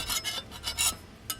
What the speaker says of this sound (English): I'm going to go back real quick and get a nice edge on this blade